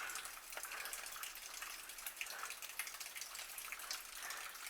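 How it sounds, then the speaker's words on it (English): Water runs and trickles down inside Gregory's Cave, an abandoned tourist cave beneath Cades Cove, a steady hissing wash with scattered drips, alone and fairly close. "There is water running down in here."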